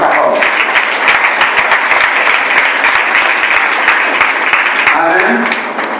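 A church congregation applauding to acclaim the Lord, loud steady clapping from many hands that fills the room and tapers slightly at the end, with a voice faintly over it.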